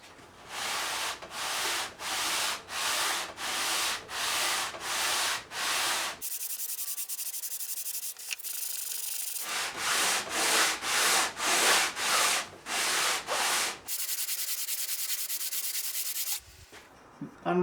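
A guitar soundboard being sanded by hand, with rhythmic back-and-forth wooden scrubbing strokes in close, even bursts separated by short pauses and stretches of steadier rubbing.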